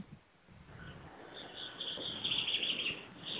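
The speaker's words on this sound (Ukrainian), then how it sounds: "Ми знайшли останнього у Львові горобця." A sparrow chirps in Lviv, a series of quick, bright, repeated high chirps that start after a quiet moment and continue fairly close over a soft background hum.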